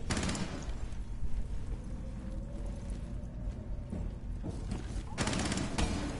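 Rapid gunfire bursts from the video game Rainbow Six Siege, loudest near the start and again around the fifth second, over a steady din of in-game action with players talking throughout.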